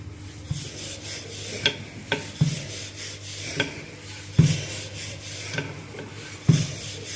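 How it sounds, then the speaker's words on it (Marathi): A rolling pin works oiled methi paratha dough on a board, producing a steady rubbing, scraping roll with periodic soft knocks and bumps as it changes direction, close and continuous. "हे असा एकसारखा लाटायचा पराठा सर्व बाजूने."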